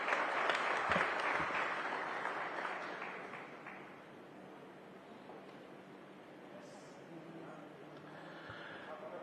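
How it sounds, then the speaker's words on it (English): Audience applause at the opening of a private electrical spare-parts manufacturing plant, a crowd clapping loudly at first and then thinning out to scattered claps and room murmur. "At least shall we have a round of applause, please?"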